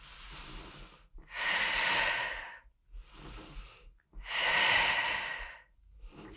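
Deep breaths during a mat workout, quiet inhales alternating with two long, forceful exhales heard up close, with no speech.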